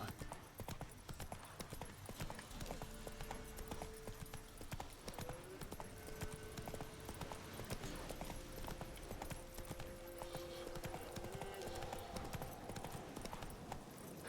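Horse hooves clip-clop steadily in The Witcher 3 video game, a continuous galloping rhythm throughout, with game music tones layered underneath and faint background voices.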